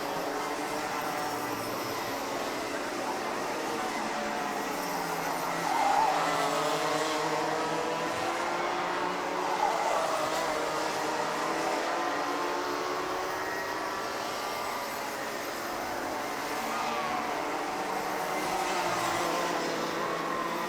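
Junior Max racing karts circulate at Zwartkops circuit in a steady high-pitched engine drone, their revs rising and falling as they pass at a moderate distance, with no voices.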